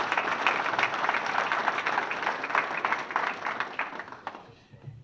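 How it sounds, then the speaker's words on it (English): Audience applause at a naming ceremony for a winner's circle and performance center, a crowd clapping briskly and fairly loud, then thinning and fading out near the end. "let's give ourselves a round of applause"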